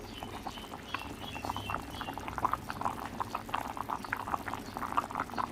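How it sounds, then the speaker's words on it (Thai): Water poured into a pot of Thai pork stew (om) with winter melon, a steady close bubbling and splashing liquid sound running throughout without any talk. "ติมน้ำลงไป ให้ฟักมันสุกพี่น้อง"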